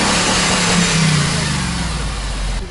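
A Subaru Forester STI with a six-speed manual, stuck on a diagonal in snow, revs loudly up close, its engine note swelling and then falling away over a brief burst.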